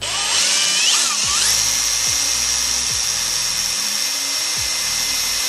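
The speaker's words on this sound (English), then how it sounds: "you must drill into the chassis and put a bolt through." A power drill bores into the chassis of a Holden Colorado RC truck build, a loud close whine that rises in pitch early on and then holds steady, with faint clicks underneath.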